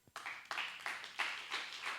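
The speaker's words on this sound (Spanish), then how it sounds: "Da un aplauso al Señor." A church congregation claps at a service, a few loose bursts of hand clapping rising and falling in waves, fairly faint and with no talk over it.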